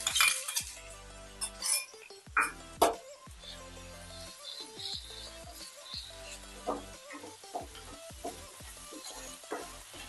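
Garlic, ginger and onion stirred in a little white oil in a pan, with a steady sizzle under repeated scraping and clinking strokes of a utensil against the pan, close and moderately loud with no voices.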